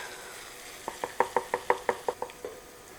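Ground beef and garlic sizzle in a skillet under a soft, steady hiss, with a quick run of about ten rhythmic scraping knocks from a utensil against the pan, close and moderately loud.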